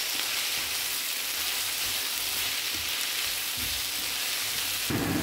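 A whole large onion stir-frying in a pan gives a steady, close sizzling hiss with soft crackles and a few scraping stirs, no voices over it.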